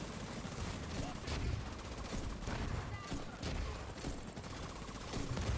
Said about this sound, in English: Are you fucking shooting me?